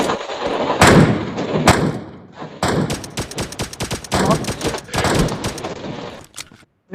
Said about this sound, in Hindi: एक शॉट मारने की कोशिश करता हूँ।